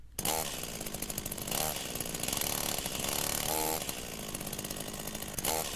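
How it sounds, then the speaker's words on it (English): Gasoline chainsaw in the visual novel Rebellions roars loudly and continuously, its engine revving up and down in repeated surges close by. "Chainsaw's engine roared to life"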